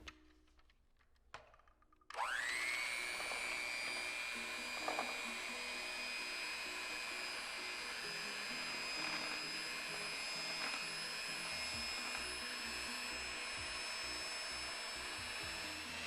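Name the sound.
handheld electric mixer beating a mixture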